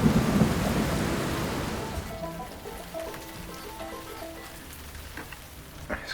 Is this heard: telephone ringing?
no